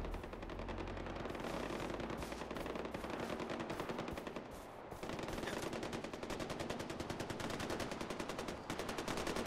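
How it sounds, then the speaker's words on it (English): Enemy gunfire in the video game Far Cry 4: sustained rapid machine-gun bursts rattle almost without pause, fairly faint overall and with a brief lull midway. "Oh, they're the one shooting."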